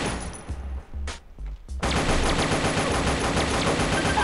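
Gunfire in the video game Pixel Gun 3D, first a few scattered shots, then a dense continuous burst of rapid automatic fire that fills the rest of the moment, loud and close.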